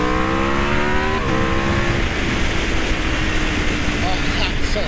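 Aprilia RSV4 RR motorcycle from 2018, fitted with an aftermarket flash tune, accelerating hard on the road as its engine note climbs through gears amid steady wind roar, with the rider speaking over it.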